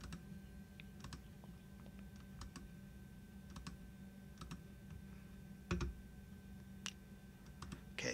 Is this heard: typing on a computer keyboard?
yes